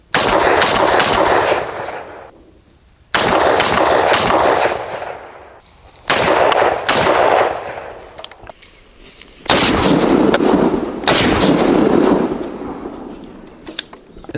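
Rapid strings of loud, close rifle shots from an FN FAL fitted with a DSArms muzzle brake, fired outdoors in four bursts of quick follow-up shots with sharp reports and ringing decay between groups.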